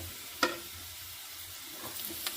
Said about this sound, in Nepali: अब बेसार राखेर पनि एकैछिन चलाउनुपर्छ